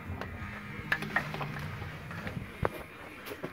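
A ratchet tightening the oil filter housing bolts on a 2005 Pontiac G6 with a 3.6 V6, making quick faint clicking bursts close up over a dull background.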